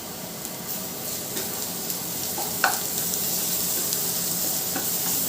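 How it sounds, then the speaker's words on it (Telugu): Ginger garlic paste fries in a pan during a mushroom masala curry, a steady close sizzle with occasional soft stirring scrapes and pops, no talk. "అల్లం వెల్లుల్లి ఫ్రై అయిపోయిందండి"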